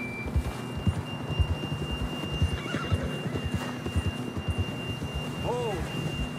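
Horse in Red Dead Redemption 2, hooves clip-clopping steadily on a trail with a brief whinny near the end, amid rain and distant thunder and faint background voices.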